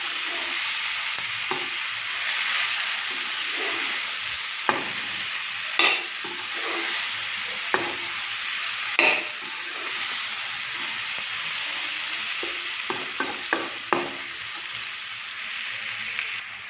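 Pork with tomato and potatoes frying in a wok gives a steady soft sizzle, broken by intermittent scraping clicks as it is stirred, close and moderately quiet with no talking.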